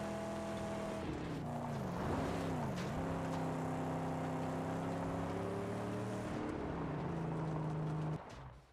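A car from the Mad Max video game drives along a road with a steady engine drone that rises and dips in pitch as it shifts and accelerates, close and continuous, then cuts off near the end.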